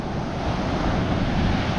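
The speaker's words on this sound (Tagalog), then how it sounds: "Grabe, lalaki ng alon, guys" Big ocean waves at Bucana crash and roar in a continuous, loud wash of surf, with wind noise buffeting throughout and no voices.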